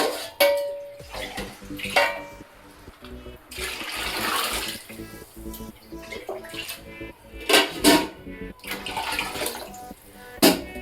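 Water pours and splashes into a metal cooking pot in several bursts, with occasional clinks, over a steady background hum.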